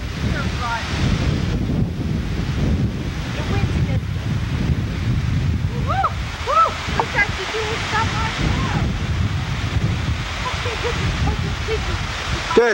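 Steady wind blowing hard outdoors near water during a Pocono vacation, a broad continuous roar with surf-like rushing throughout, and faint voices and calls coming through partway along.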